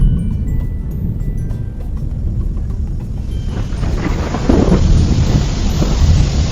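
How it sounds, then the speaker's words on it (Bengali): Heavy cartoon rain pours down, with low thunder rumbling throughout and the downpour swelling louder midway. No voices are heard. "এই রে, জোরে বৃষ্টি শুরু হয়ে গেল যে"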